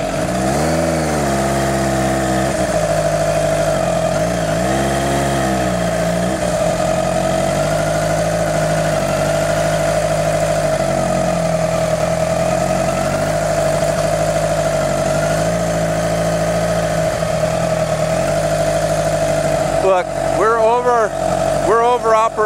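A Kawasaki Ninja sport bike engine idles steadily at operating temperature with a constant, close hum and a few faint dips, then revs briefly near the end.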